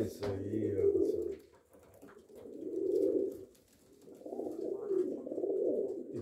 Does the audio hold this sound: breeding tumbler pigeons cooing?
yes